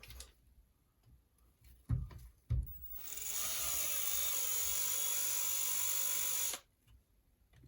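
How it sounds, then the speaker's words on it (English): A power drill tightening gasket bolts on a Shindaiwa M242 during a fuel line and gasket replacement runs in one continuous whirring burst of about three and a half seconds, preceded by a couple of sharp handling knocks, close to the microphone. "take the drill."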